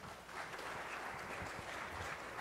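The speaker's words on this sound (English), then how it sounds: "All right, round of applause." An audience applauds after a lightning talk, a continuous patter of clapping that holds steady for a couple of seconds, moderately distant.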